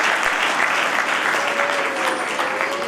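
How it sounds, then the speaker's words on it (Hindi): An audience at a foundation-day gathering of an Arya youth council gives dense, steady clapping to welcome a national poet, sustained and fairly loud throughout. "ताली से स्वागत करें।"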